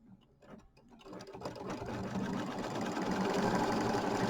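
A sewing machine stitches a tack-down line on a small quilt. A few quiet starts give way to a steady, rapid mechanical whir that grows louder and runs on without voices.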